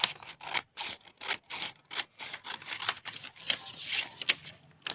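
Paper sheet cut into a square being folded by hand for a nursery class activity, giving a run of close, dry crisp rustles and scrapes in short bursts with brief pauses between.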